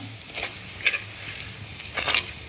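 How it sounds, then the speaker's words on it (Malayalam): Turmeric powder fries in a pan for fish curry while being stirred, a soft sizzle broken by three or four brief scraping strokes of the spoon against the pan, no talking. "ഒരു അര ടീസ്പൂൺ മഞ്ഞൾപ്പൊടി ഇത്രയും ഇട്ട് കൊടുത്തിട്ട് അത് നല്ല പോലെ ഒന്ന് മൂത്ത് വരാൻ വേണ്ടിയിട്ട് നമ്മളൊന്ന് ഇളക്കി കൊടുക്കാം"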